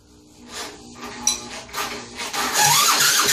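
A cordless drill spins over a 1959 Silver Pigeon engine, a rising mechanical whir and rubbing grind that builds over a few seconds into a loud, steady spinning drone, close by.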